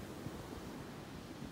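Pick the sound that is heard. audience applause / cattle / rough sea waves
rough sea waves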